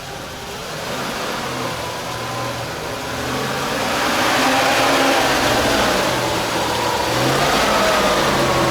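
An all-terrain vehicle engine revs hard while crossing a swamp, its loud, rising and falling roar building over several seconds.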